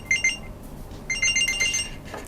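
A Samsung Galaxy Watch 4 sounds its find-my-watch alert, a loud, close series of repeated high electronic beeps in two bursts separated by a short pause.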